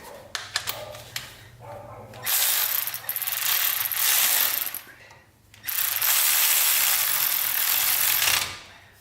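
A torque wrench ratchets while tightening a manual locking hub on a Toyota 4Runner, in two long, loud bursts of rapid clicking separated by a pause, with a few sharp taps at the start.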